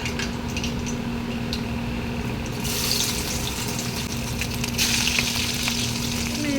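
Okra (bhindi) frying in a pan at home, a steady close sizzle running throughout, with a brighter hiss swelling partway through and again near the end, no talking.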